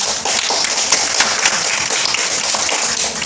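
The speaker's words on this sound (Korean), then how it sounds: "박수" A group applauds at a children's dream presentation gathering, a steady dense patter of clapping hands lasting throughout, fairly close and loud.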